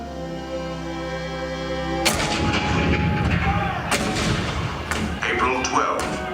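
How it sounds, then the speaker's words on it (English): Cannon fire in a theme-park attraction's retelling of the 1861 Fort Sumter bombardment: after a low sustained tone, a sudden loud boom erupts, followed by further heavy blasts and rumbling over several seconds, with a voice narrating underneath. "The cannon spoke for war."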